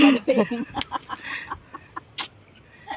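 Striped chicken clucking in a public park, several short clucks close by at first, then sparser calls that fade toward the end, with faint ambient noise between.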